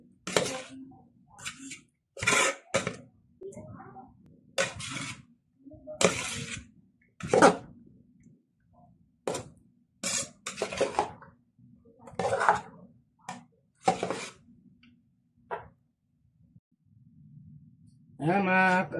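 Eggplant omelette ingredients are stirred in a bowl in a home kitchen, giving a series of short, close clinks and scraping taps in an irregular rhythm, with a soft hum underneath.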